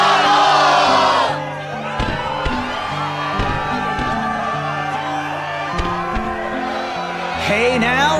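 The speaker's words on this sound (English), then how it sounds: "The crowd is fired up, so you know what comes next." In-game crowd in Kingdom Hearts 2 (PS4) roars loudly at the start of a struggle tournament, then a sustained cheer and shouting continue under game music, swelling again near the end.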